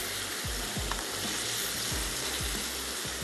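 Coriander powder and spices sizzle and fry in hot oil for an aloo gosht curry, a steady close crackle with faint scraping stirs repeating every half second or so.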